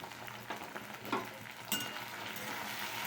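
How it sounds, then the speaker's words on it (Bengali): Okra frying in oil with salt in a pan makes a soft, steady sizzle, broken by a few light clatters of stirring, with no one speaking. "ভেন্ডিটাকে ভেজে নিচ্ছি"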